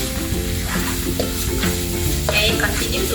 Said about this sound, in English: continue to fry until aromatic